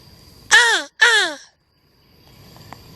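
Two loud, harsh caws from a crow, one right after the other, heard outdoors at a fishing campground on Patoka Lake, Indiana, followed by faint background noise.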